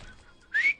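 A person attempting to whistle produces a short, rising whistled note, brief and fairly faint, after a moment of near quiet.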